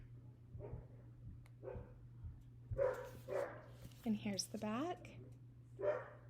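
Several dogs bark and yip in short bursts nearby, some high-pitched, while someone talks over a steady low hum.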